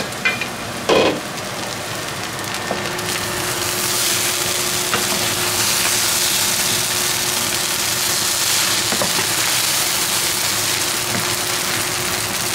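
Vegetable fried rice sizzles in a pan over medium heat, a steady broadband hiss with a faint hum beneath and a couple of brief clinks near the start.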